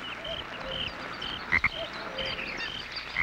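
Frogs call in a steady outdoor chorus of chirping croaks, with a few louder close calls standing out near the middle and end. No voices are heard.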